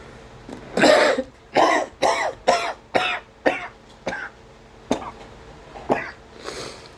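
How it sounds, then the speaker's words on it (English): A person coughs repeatedly in harsh, close bursts, about a dozen hacking coughs spaced irregularly with brief pauses. "I still have my nasty cough"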